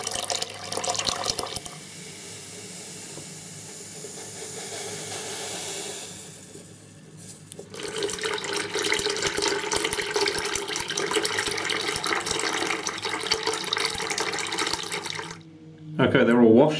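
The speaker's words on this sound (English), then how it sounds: "Water's running clear, ballast is nice and clean." Water runs steadily from a tap to rinse model railway ballast, a continuous broadband rush close by that dips briefly midway, swells again and cuts off near the end.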